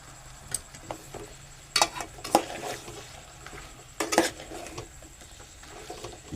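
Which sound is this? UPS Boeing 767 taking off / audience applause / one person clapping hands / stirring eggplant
stirring eggplant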